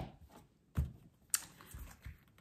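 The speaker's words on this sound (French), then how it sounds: "Je vais couper et je vais tirer 3 cartes." A tarot card deck is cut and cards are drawn, giving a few soft, close card slaps and shuffling taps with one sharper snap midway, quiet and alone.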